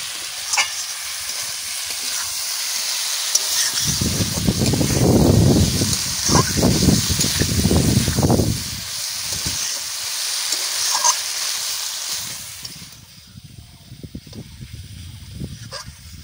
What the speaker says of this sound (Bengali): তো এবার ভাজা চিংড়ি মাছটা এবার দিয়ে দিব,